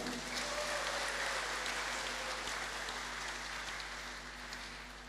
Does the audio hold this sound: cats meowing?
no